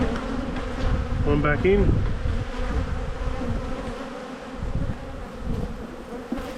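Honey bees buzz continuously around an opened hive during a beekeeping inspection, a close, dense drone with a person briefly speaking over it.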